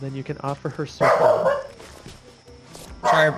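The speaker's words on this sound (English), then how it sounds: "Sorry about the dog on the stream." A dog barks a few sharp times in the background of a livestream, with the barks overlapping and trailing a man's speech in the foreground.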